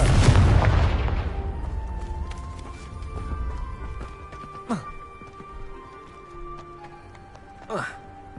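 A Confringo explosion spell in Hogwarts Legacy, opening with a heavy booming blast that decays over a couple of seconds, followed by sharper whooshing spell bursts, distant game clatter and faint hoof-like clip-clop.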